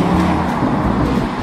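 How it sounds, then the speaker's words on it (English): A supercar on the road accelerates hard, giving a steady, loud engine roar with no gaps for the whole short stretch. "he accelerates and it makes a crazy noise and goes super fast"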